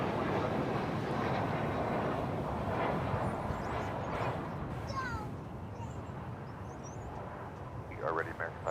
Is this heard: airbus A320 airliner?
yes